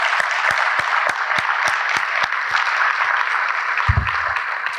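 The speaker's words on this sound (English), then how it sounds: "please give them a round of applause" An audience claps for the board of trustees at a SECO Energy electric cooperative district meeting: dense, even applause with a few sharp, distinct claps near the front and a brief low thump toward the end.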